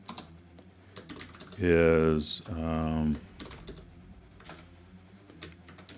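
Clicking keystrokes on a computer keyboard patter close by in short bursts, interrupted by a loud stretch where someone speaks.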